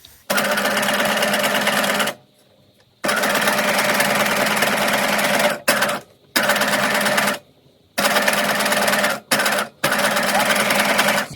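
A sewing machine doing free-motion embroidery on a fabric gift tag runs in loud, close bursts of rapid stitching, several runs of a few seconds each separated by brief pauses.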